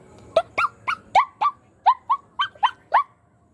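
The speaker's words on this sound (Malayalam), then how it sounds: "അവിടെ നായൻ്റെ ശബ്ദമൊക്കെ ഉണ്ട് കേട്ടോ ഈ സമയത്തൊക്കെ" A dog yips and barks about ten times in quick, uneven succession, sharp and close, with nothing else around.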